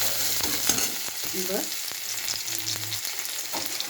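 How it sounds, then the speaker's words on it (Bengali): Onion and garlic fry in a pan with green chilli, sugar, salt and ginger paste, giving a steady crackling sizzle with occasional stirring knocks, while someone speaks briefly over it. "পেঁয়াজ রসুনটা ভেজে নেব"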